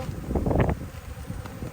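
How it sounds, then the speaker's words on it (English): Honey bees buzz close by at a hive during a nuc installation, a short dense swarm drone that swells and then eases. "There's still a lot of bees left inside."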